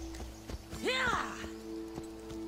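Hooves of a limping horse in Assassin's Creed Odyssey clip-clop at a walking pace with a brief whinny partway through, over a steady background tone from the game soundtrack.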